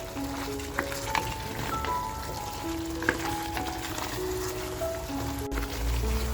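Mutton frying in masala in a pan for methi mutton, a steady dense sizzle running throughout with faint stirring clinks and no voices.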